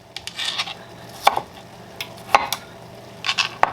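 An onion being cut with a chef's knife on a board for homemade chili: a handful of distinct, sharp knife taps spaced irregularly, with soft rustling between them, close and quiet.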